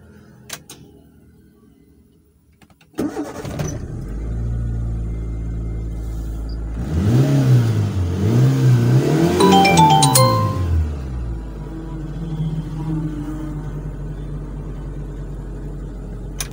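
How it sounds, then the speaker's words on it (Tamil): A used Maruti Esteem car engine cranks and catches after a quiet moment, then settles into a low steady idle with a rising and falling rev in the middle before dropping back to idle. "ஸோ வண்டி ஸ்டார்டிங் எப்படி இருக்குது அப்படிங்கிறத இப்போ பார்க்கலாம்."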